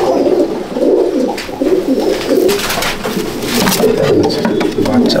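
At a sale of old-breed Madrasi pigeons in Bauria, Howrah, several small pigeons keep up a loud, overlapping low cooing, with sharp clicks and flutters scattered through and faint voices in the background.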